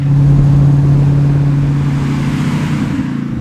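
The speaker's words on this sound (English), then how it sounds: "You can imagine bimbling around the south of France with that V8 burble in your ears" A 1992 TVR V8S with its V8 engine gives a steady, deep burble at low revs, a loud, even drone that holds without breaks and eases slightly toward the end.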